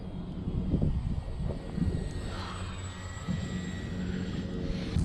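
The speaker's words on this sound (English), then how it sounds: "I'm flying the plane in safe, just to fly it around." A Parkzone T28 radio-controlled model airplane flies around outdoors, its steady engine drone carrying on throughout amid outdoor background noise, at moderate distance.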